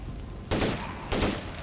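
Two loud, close gunshot bursts in the State of Decay 2 video game, about half a second apart, each a sharp broadband crack with a short tail, standing alone over low background noise.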